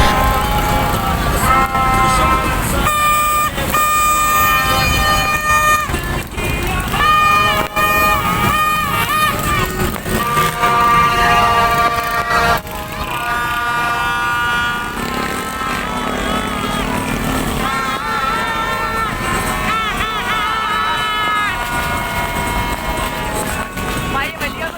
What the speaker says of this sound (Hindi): रोड्स बिल्कुल ही जाम हो गई थी और इतना ज़्यादा कोई बाजों की आवाज़।